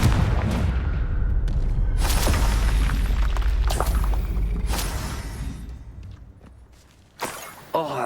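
Confringo blasting spell explosions in Hogwarts Legacy: a deep, loud booming blast with shattering debris that rumbles and slowly fades, followed by two short sharp impacts.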